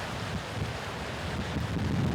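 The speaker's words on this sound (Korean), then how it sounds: "가을빛이 완연한 제주바다." Autumn sea waves on a Jeju beach of round pebbles rush and wash in a continuous, broad roar, with wind buffeting the microphone and the surf swelling slightly toward the end, and no voices.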